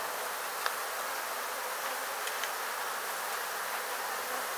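Bees swarming during a hive removal, a dense, steady high buzz from many insects close by, fairly quiet, with a few brief louder passes of individual bees and no talking.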